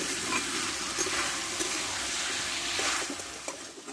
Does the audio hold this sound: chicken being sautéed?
yes